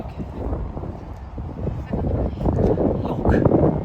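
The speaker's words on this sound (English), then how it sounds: "So windy." Gusty wind buffets the microphone outdoors at a Florida theme park at night, a low rumbling roar that swells and grows louder toward the end, with no clear talk over it.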